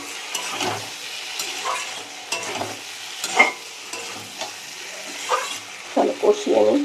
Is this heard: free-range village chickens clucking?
no